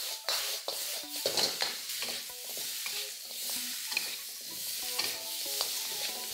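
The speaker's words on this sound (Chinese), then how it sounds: "先加适量的黑酱油再翻炒哦" Pork ribs are stir-fried with dark soy sauce in a wok, with a constant loud sizzle and repeated scraping strokes of a spatula against the metal.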